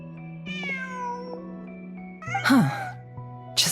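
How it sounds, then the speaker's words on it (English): A cat in the video game Genshin Impact meows twice, a drawn-out mewing cry followed by a shorter, harsher yowl, over a quiet tonal game soundtrack. "Just a cat."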